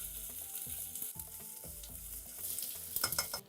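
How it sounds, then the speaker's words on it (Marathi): Long-sliced onion frying in a pan until brown, a dense close sizzle with stirring scrapes and rattles that grow busier toward the end, along with faint background music. "त्यात घालूया 1 मोठा लांबट कापलेला कांदा. कांद्याला छान तांबूस होईपर्यंत परतून घेऊया."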